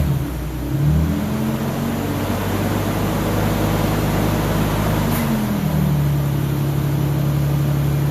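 A 2002 Isuzu Trooper LS with a 6VE1 V6 and 4L30E transmission, troubled by stalling, runs with a loud, steady engine hum that shifts pitch partway through, close and without talk.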